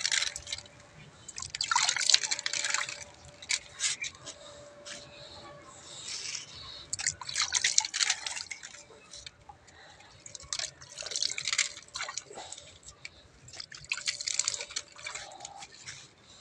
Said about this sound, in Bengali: এখান দিয়ে একটু পানি দিতে হবে